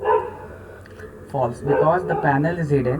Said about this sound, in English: Sorry for the background barking noise.